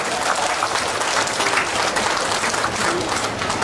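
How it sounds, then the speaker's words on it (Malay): Audience at a political rally in Malaysia breaks into steady, dense applause that fills the space evenly for several seconds without a pause, with no voices rising above the clapping. "Tepuk tangan sikitlah."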